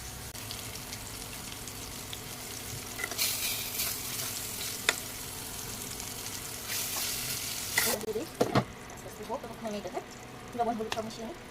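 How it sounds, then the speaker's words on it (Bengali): Vegetables sizzle and fry in a pan with a steady crackle, broken by louder bursts of stirring and scraping and a few sharp clinks. Someone talks partway through. "জাস্ট ফ্রাই হবে।"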